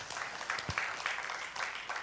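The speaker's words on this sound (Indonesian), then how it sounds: "berikan tepuk tangan bagi Allah kita" A congregation at an Indonesian church service claps in praise to God, a brief, steady wash of applause from a modest crowd.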